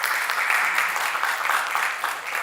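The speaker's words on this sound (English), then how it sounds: "They deserve a round of applause for doing this today." Conference audience applauding David and his team, a dense, even burst of many hands clapping heard alone for a couple of seconds.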